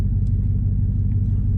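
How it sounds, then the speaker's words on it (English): Steady low rumble of a V8 truck engine with a 4.8-liter motor and stock exhaust, idling loud and close, continuous with no talk. "Still a V8, still gonna get the V8 rumble."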